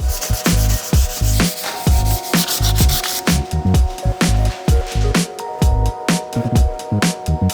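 Sanding the bodywork of a tube chassis drift truck around the panhard bar and under the strut towers, heard as loud, close, rhythmic back-and-forth rasping strokes that continue steadily without talk.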